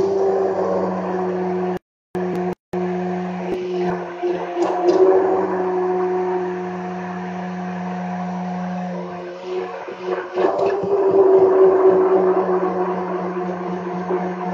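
A blender grinds a lentil and salt mixture with a little water while making a plant-based dish, a steady loud motor whir with a sustained hum and brief interruptions, close by in a home kitchen.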